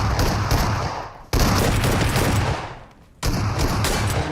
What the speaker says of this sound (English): That's a lot of bullets coming in from 1B.